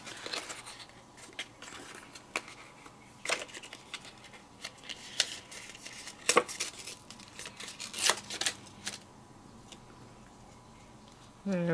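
Scissors trimming a piece of white paper for a shaker card topper, producing a series of sharp, close snips and crisp rustles, spaced irregularly across the clip.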